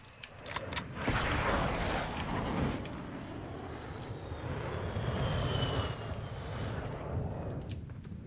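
Jet-like aircraft engine roar from a VTOL in a free-for-all multiplayer video game, a steady broadband rumble with a rising whine passing overhead, plus a few sharp cracks of gunfire early on and no talk.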